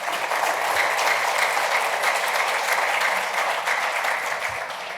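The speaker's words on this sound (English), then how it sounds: "Give him a round of applause." A live startup-event audience applauds to welcome a guest onstage, a steady, full wash of many hands clapping throughout without letup.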